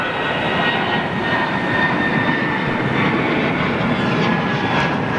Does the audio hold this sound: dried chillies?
no